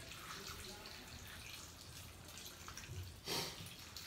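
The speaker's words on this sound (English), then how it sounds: "Now I put the water onto the onion." Water poured from a tap onto salted onions in a kitchen to rinse out the salt, a steady splashing hiss with a brief louder gush near the end.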